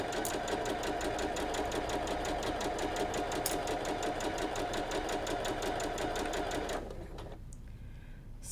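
A sewing machine stitches a pinned hourglass four-patch quilt block, a steady rapid mechanical whir that runs unbroken for about seven seconds before stopping, leaving faint handling noise.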